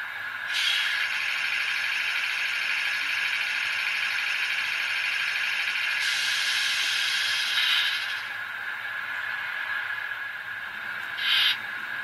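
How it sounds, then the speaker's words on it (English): Air compressor sound effect from a Tier 4 GEVO model locomotive, a steady hissing, chugging drone that holds for several seconds, shifts in tone partway through, and ends with a short burst, alone without talk. "the compressor."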